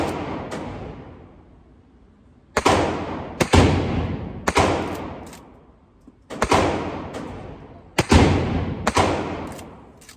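A 1960 Winchester 1894 lever-action rifle in .30-30 fires four loud, sharp shots, each with a long rolling echo, plus the quieter clacks of the lever cycling between rounds.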